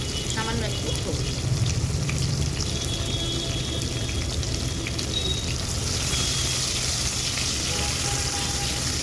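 Banana pieces fry in hot oil with turmeric in a pan for shukto, a dense, continuous close-up sizzle with occasional stirring scrapes throughout.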